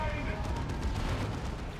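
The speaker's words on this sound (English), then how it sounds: "Plasma Cannon getting shots" Plasma cannon shots in the Warhammer strategy game Dawn of War 2 during a 3v3 match: a cluster of heavy booming blasts over a rumbling battle, with a voice talking over them.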